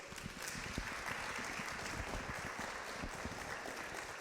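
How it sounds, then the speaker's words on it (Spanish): A church audience gives a faint, distant round of applause that stays steady and continuous for several seconds, with many hands clapping together. "Te agradecemos con un aplauso de nuevo"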